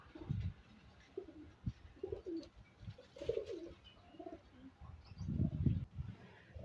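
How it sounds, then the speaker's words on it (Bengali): Pakistani Sialkot highflyer pigeons coo in low, soft repeated phrases with a few short chirps, close by and moderately quiet, with irregular pauses between calls. "এটা হচ্ছে একটা শিয়ালকুট নর কবুতর"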